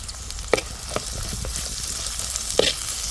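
Green chilies, ginger, garlic and curry leaves sautéing in a pan for a quick mango curry, a steady close sizzle with a few sharp clinks of a stirring spoon.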